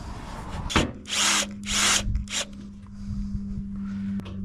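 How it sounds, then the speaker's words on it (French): A cordless drill driver whirs in several short bursts, driving screws into the mounts of a solar panel kit, with a steady hum and faint scraping between the loud, close bursts. "je gagne un petit peu de temps en prenant la visseuse"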